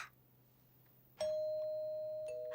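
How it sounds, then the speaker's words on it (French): After a quiet stretch with a low hum, a cartoon doorbell sounds clearly: two bright chime tones, the first ringing out long before the second. "Oh, je reconnais le coup de sonnette de Louise."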